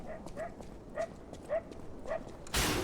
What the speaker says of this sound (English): No, it's a dog.